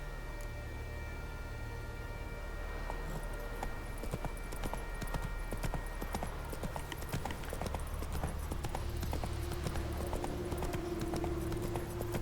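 Hooves of Roach, a horse in The Witcher 3, clip-clop in a steady, close trotting rhythm over game ambience and music, continuing for the whole stretch without voices.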